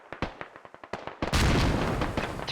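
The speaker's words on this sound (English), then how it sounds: "Here comes the mortars." Mortar barrage in the tactical shooter game Squad: a rapid string of sharp distant gunshots gives way to a loud, sustained rumbling roar of explosions that fills the rest of the moment.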